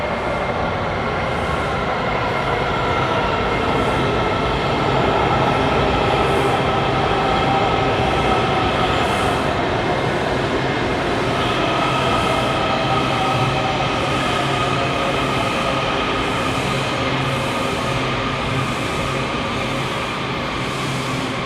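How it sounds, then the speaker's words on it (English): A Washington, D.C. metro train pulls into a station with a loud, continuous rumble of cars and wheels, steady and close for the whole stretch, with no voices. "Here it is, the train."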